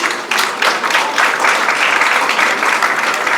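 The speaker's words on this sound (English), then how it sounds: "really needs a wonderful applause before I even start my speech" Loud, close, steady applause from a seated audience at a women's summit, with dense, even clapping filling the whole stretch and no voices over it.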